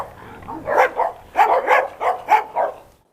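A Doberman barks in a quick series of about eight sharp, fairly close barks, in two bursts with a short pause between them, heard alone.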